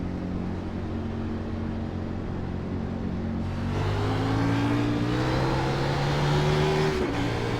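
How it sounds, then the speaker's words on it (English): Simulated race car engine in iRacing revving up on a restart on brand new tires, rising pitch with wheel spin as it accelerates, loud and steady over a low rumble, no talk. "You could hear the wheel spin."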